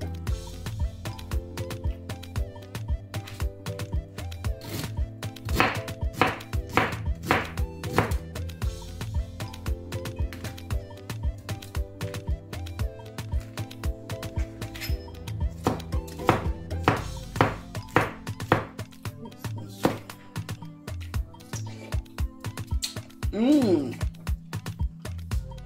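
A knife chops the hard core of a pineapple for juice, giving a long run of sharp, rapid taps on a board, near and clear, over a steady musical background.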